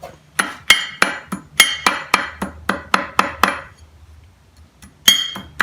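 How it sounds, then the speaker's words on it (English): A wrench serves as a hammer on a 1962 Johnson 10 hp outboard motor, giving about a dozen sharp metallic clanks in a steady rhythm, then a pause and one final strike. "Everyone's screaming at me not to use the wrench for a hammer."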